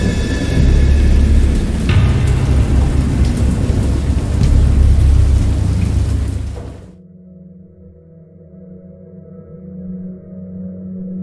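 Heavy rain roars together with deep rumbling thunder in a horror game based on Lovecraft's Dagon, loud and continuous, then cuts off abruptly to a quieter low rumble.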